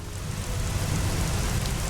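Loud, heavy rain pours steadily in the Bee Movie video game, a dense unbroken hiss with no pauses.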